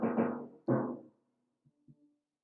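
Two deep, booming timpani strikes sound on a Yamaha PSR-220 keyboard, each decaying quickly, followed by a couple of faint, soft taps in near silence.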